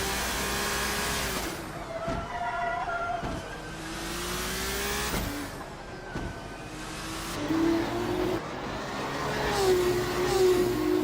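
Engines of race cars in a sim race at Sentul, Indonesia, whine steadily and loudly with rising and falling revs, several cars overlapping throughout.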